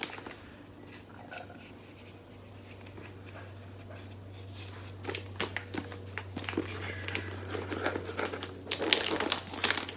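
Christmas wrapping paper, stiff and hard to rip, being crinkled and torn off a gift book, with dry papery crackles and sharp tearing bursts growing louder toward the end over a steady low hum.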